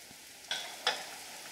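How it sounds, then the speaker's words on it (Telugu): Onions frying in a pan over a medium flame with green chilli, a low sizzle punctuated by two sharp scraping stirs close by. "ఉల్లిపాయలు కొంచెం దోరగా వేగుతూనే"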